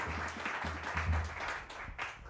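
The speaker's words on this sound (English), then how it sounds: "can we give one more big round of applause to David Mesquitic?" An audience applauds big band leader David Mesquitic at his debut concert, a moderate wash of clapping hands heard at some distance, with a low hum underneath.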